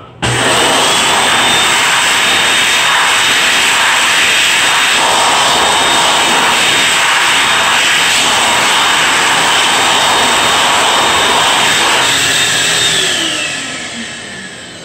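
An Xlerator hand dryer in a beer garden restroom in Mobile, Alabama, blasts with a loud, steady jet-like roar for about thirteen seconds, then winds down with a falling whine.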